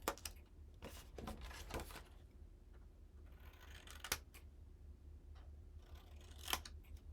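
Scissors snip through patterned paper along score lines, making a series of close, crisp cuts at irregular intervals against a quiet low background hum.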